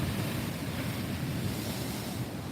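Surf rolling in steadily at a beach with a crowd of surfers out in the water, a constant broad wash of breaking waves roaring loud and unbroken, mixed with wind buffeting the microphone and no talk.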